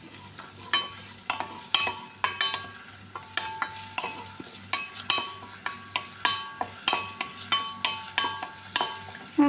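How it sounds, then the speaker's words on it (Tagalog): Garlic and onion sizzle in a frying pan while a spoon stirs them with regular scraping clacks against the pan, steady and close. "I-mekos-mekos natin ang ating bawang at sibuyas."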